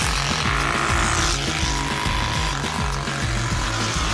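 A Turbospoke bicycle exhaust system fitted to a bike imitates a motorbike engine, giving a continuous buzzing putter with a rapid pulsing rhythm that stays steady and fairly loud throughout.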